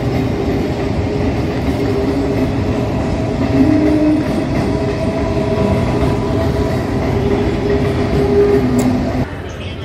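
Freight train rolling past at Khidirpur dock in the Kolkata port area, a loud continuous rumble and clatter of wagons that holds steady and drops away abruptly near the end.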